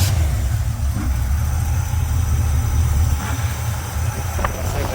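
Pontiac 350 V8 with a Willis carburetor running steadily nearby, a loud continuous low engine rumble with no clear revving or talking.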